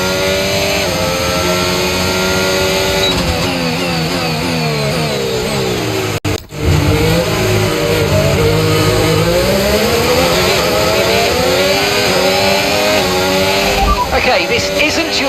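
F1 car in the F1 25 racing game accelerating back up to speed, engine note climbing through gears loud and continuous for the whole stretch, with a brief dip mid-way and race radio talk over it.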